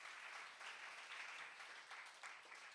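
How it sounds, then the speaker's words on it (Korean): Church congregation clapping in praise during a worship service, a quiet, fairly distant patter of steady applause with gentle swells. "우리 주님께 영광의 박수 올려드리겠습니다"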